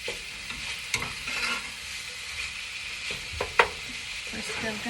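Ground meat for Mexican rice sizzles steadily in a pan while a utensil scrapes and stirs it, giving occasional sharp clicks against the pan over the constant frying hiss.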